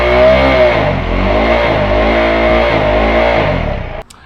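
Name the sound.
390 Adventure motorcycle revving with cheap slip-on exhaust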